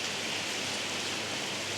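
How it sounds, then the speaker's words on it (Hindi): Heavy rain falls in an unbroken, dense hiss at a Phuket resort, loud and steady throughout with no voices. "अच्छी बारिश हो रही है"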